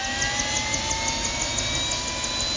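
A helicopter engine and rotors spinning up, a steady turbine whine with rising tones over a broad roar and faint regular rotor pulses, heard alone without talk.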